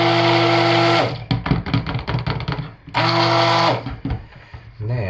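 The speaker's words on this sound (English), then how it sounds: "But this is the first time this batter's been stick blended." A stick blender whirs loudly in two bursts while emulsifying cold process soap batter, with clattering handling between runs and a brief restart at the end.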